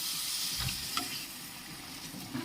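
Broad bean masala gravy being stirred in a pan with added water, a steady low sizzle under soft scraping strokes of a spoon, close and continuous.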